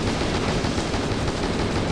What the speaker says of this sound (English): I shot him midair